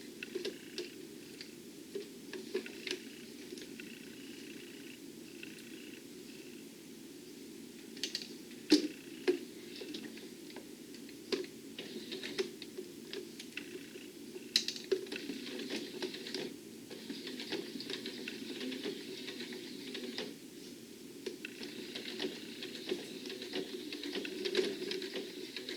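A sewing machine stitches and backstitches through several thicknesses of a zippered pouch with handles, a quiet fast ticking mechanical patter with a low hum, running in uneven bursts that slow and pick up again.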